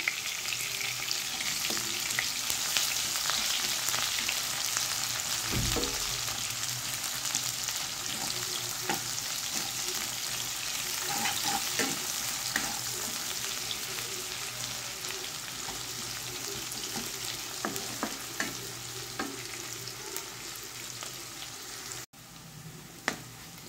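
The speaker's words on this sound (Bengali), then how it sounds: "পেঁয়াজটা একটু লাল লাল করে ভাজতে হবে।" Three chopped onions frying in a pan until reddish-brown for a jute leaf curry, giving a steady, close sizzling hiss throughout with occasional stirring clicks and no talking.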